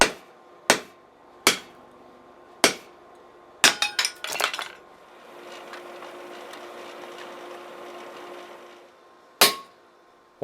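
Hot steel bar being cut through with a guillotine tool while forging a knife blade: several sharp separate hammer blows ring out, then a quick burst of strikes, a softer scraping stretch, and one last loud blow.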